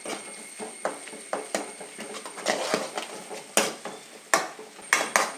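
Garlic, ginger, chilli, shallots and ground pepper are stirred in a pan with a utensil, giving close, irregular metallic scrapes and clinks over a faint sizzle, with no talk.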